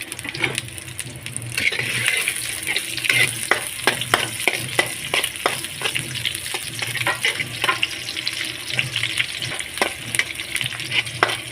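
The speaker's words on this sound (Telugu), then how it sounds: "ఆయిల్ హీట్ ఎక్కిన తర్వాత ఆనియన్స్, పచ్చిమిరపకాయలు వేసుకోవాలి." Onions and green chillies fry in two spoons of hot oil in a kadai for egg fried rice, a constant close sizzle punctuated by rapid rhythmic scraping and clicks from stirring, without talking.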